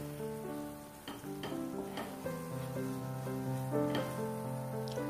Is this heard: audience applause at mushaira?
no